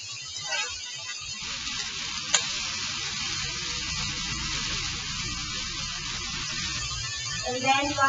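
Chicken breast frying in a pan gives a steady, bright sizzle throughout, with a few clinks and stirring scrapes and a brief voice underneath.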